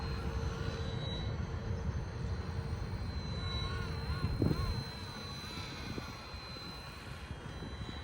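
A FlyWing H1 RC helicopter lifts off in ATT mode on a windy day, its rotor drone a steady, fairly loud whine that continues throughout, with a brief bump midway and no talking.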